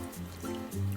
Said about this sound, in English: And now we just pour our stock down the side